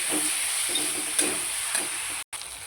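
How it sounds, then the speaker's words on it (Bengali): Tomato with turmeric frying and being stirred in a pan, a steady close sizzle with soft scraping strokes about every half second and one brief gap near the end. "হলুদটা দিয়ে আর একটু ভালো করে কষিয়ে নেবো"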